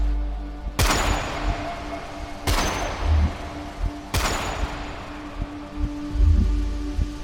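Three sharp gunshots ring out one after another at even intervals, each a loud broadband crack with a reverberant tail, set over a low rumbling background that recalls a dramatized night shooting in a remote Philippine sugarcane field.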